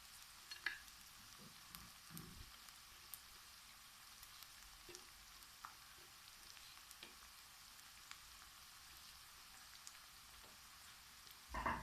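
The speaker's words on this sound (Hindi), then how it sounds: "तो लहसुन को भी हमने थोड़ा सा फ्राई कर लिया है" Garlic and onion frying in a pan, a quiet steady sizzle with faint crackles and a few soft stirring knocks, no talking, ending with a louder clatter.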